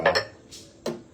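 Dishes and utensils clinking while washing up, a few quick sharp clinks up close followed by a softer scrape and one more clink.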